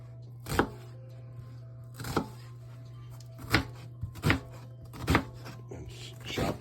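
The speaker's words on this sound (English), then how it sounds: "And chop up the onion." A knife chops an onion on a cutting board for a homemade gnocchi sauce, with six sharp, separate chops spaced a second or so apart over a steady low hum.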